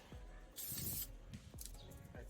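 Two short hissing bursts of spray from a nozzle, close and sharp, separated by a brief pause, with soft handling noises underneath.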